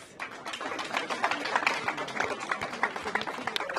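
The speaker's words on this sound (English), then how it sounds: "Can we give her a round of applause?" Scattered clapping from an audience at a book launch, a patchy run of hand claps at moderate distance that stays fairly even throughout.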